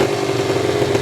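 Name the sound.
Kawasaki Ninja 150RR motorcycle engine revving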